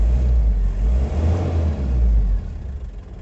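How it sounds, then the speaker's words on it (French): A Toyota Land Cruiser LJ70 diesel engine revs up with a turbocharger, giving a loud, close, steady rumbling engine roar that eases off near the end. "C'est sympa le bruit de turbo quand même quand on accélère."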